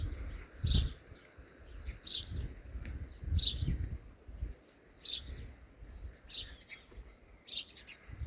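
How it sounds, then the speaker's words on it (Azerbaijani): Two sparrows perched side by side facing the sun give short bright chirps in repeated bursts, moderately close, over a low outdoor rumble. "İki dənə sərçə var, həmişə eyni yerdə otururlar."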